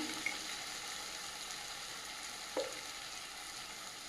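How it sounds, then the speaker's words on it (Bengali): Ginger and garlic paste fries in a pan for goat meat curry, giving a steady close hiss of sizzling throughout with a couple of brief clicks from the pan. "আদা রসুন দিয়ে বেশ কিছুক্ষণ ভেজে নিয়েছি"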